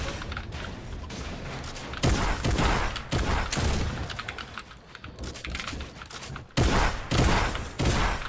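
Fortnite solo-match gunfire in a dense stretch of repeated shots, with louder bursts clustered near the start and end over constant game noise.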